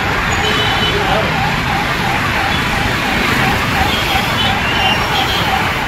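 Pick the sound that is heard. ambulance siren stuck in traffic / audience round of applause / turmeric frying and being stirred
ambulance siren stuck in traffic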